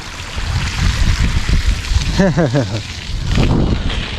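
Broadband rushing floodwater flows steadily throughout, with a brief burst of laughter-like voice in the middle.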